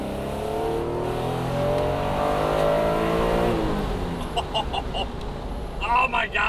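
A Honda NSX engine pulls hard with the windows down, a loud rising rev for about four seconds that then drops away, followed by faint voices and interior noises.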